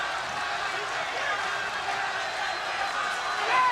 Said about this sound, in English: Crowd really into this fight, as you can hear.